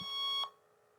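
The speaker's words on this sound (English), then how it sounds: "that's the noise it makes when it starts to lose the battery. It's beeping in time with the disk drive" A single short electronic low-battery warning beep from an Amstrad PPC640 portable computer, thin and steady, sounds over a faint background hum, then cuts off.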